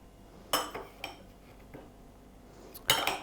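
A few light clinks of a spoon against a glass dish while salt is spooned in, spaced apart in a quiet room.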